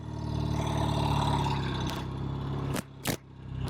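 A 1969 Triumph TR6R motorcycle engine drones steadily while riding, close and loud, with its pitch falling as it eases off, then a couple of sharp bursts near the end.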